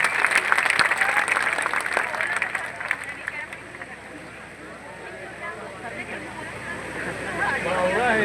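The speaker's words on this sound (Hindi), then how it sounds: "एक बार पूरा सदन दोनों हाथ उठाकर जोरदार तालियों के साथ स्वागत करे" Crowd applause and cheering at a Holi festival poetry gathering on an outdoor ground in Prayagraj, a broad sustained wash of clapping with crowd noise that fades somewhat midway before swelling again, with a voice over it.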